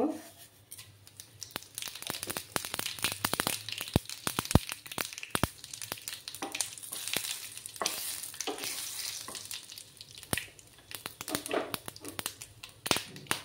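Whole cumin seeds crackle and spit in hot oil for a Bengali soyabean curry. A dense, steady sizzle is dotted with many sharp pops, close up and continuous for several seconds.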